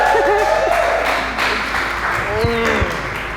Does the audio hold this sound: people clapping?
yes